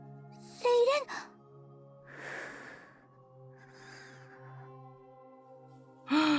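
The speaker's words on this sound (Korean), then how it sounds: "숨소리가 들려." A sleeping girl breathes softly, with a few slow sighing breaths and snorts spaced apart over a quiet, sustained low tone, one louder breath near the start and another at the end.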